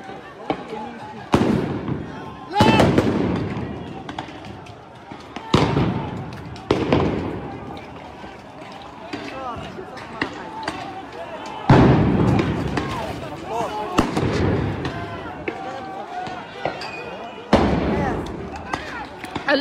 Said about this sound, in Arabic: الآن قوات الاحتلال تطلق قنابل الغاز والصوت